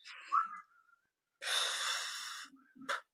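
Breathy whistling exhalations: a short airy whistle, then a longer sustained hissing, whistled breath out, and a brief final puff, alone without talk.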